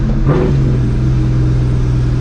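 A loud supercharged V8 in a New Edge Mustang GT rumbles continuously while driving, with a brief throaty surge at the start before settling into a steady low drone.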